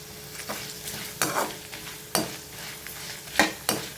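Chana dal and dried red chillies fry in a pan, a soft continuous sizzle broken by several sharp stirring scrapes at irregular intervals, close and fairly quiet with no talking.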